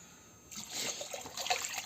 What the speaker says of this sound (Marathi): आपण पूर्ण पाणी टाकून घेतलं